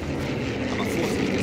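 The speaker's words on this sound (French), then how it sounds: "Il y a l'avion qui passe en même temps." An airplane drones overhead in the video game Sniper Elite 4, a broad, continuous engine rumble that fills the short moment at fairly loud level.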